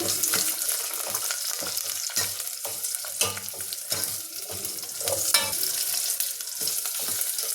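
Sliced onion and curry leaves stirred and frying in a pot over mustard-seed tempering for chickpea bassaru, a steady close sizzle with repeated scraping stir strokes throughout, no voices.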